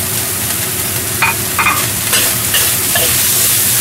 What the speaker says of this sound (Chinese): 一齊落去炒一炒佢。